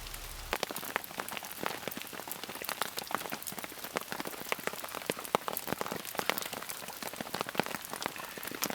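Rain falls in the bush during a pause in outdoor work, with dense, sharp drops pattering on nearby surfaces. The irregular ticking is close and continuous for the whole stretch, and no one speaks.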